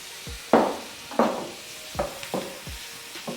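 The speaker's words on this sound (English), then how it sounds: "So let me just give it a quick stir" Seafood being stirred in a hot frying pan for fried rice: a handful of distinct scraping strokes, each with a burst of sizzle, about every half to one second over a steady frying hiss. Close and fairly loud, with no talking.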